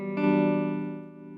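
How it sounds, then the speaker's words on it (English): A single sustained electric guitar chord rings through a slow tremolo pedal on a worship pedalboard, swelling gently and fading over about a second. "So this one is a tremolo,"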